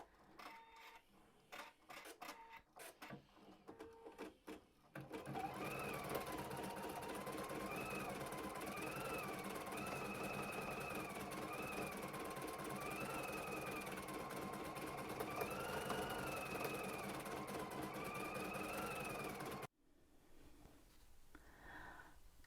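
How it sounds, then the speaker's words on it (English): An embroidery machine stitches out an appliqué Christmas angel with a steady mechanical whir and rapid needle chatter whose pitch rises and falls, after a few scattered clicks at the start, stopping abruptly near the end. "fun embroidering out an angel"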